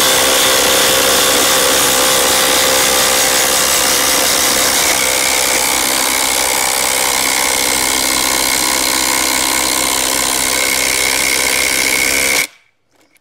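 Hercules and Cobalt 24-volt cordless saws cutting through 8-inch cedar together, a loud, continuous high-pitched whine and rasp of blades in wood that runs steadily and then stops abruptly at the end.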